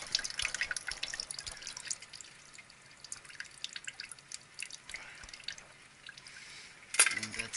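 Water drains and drips during maintenance on a water source heat pump, a faint, quiet trickle with scattered drips and one louder splash or clank near the end.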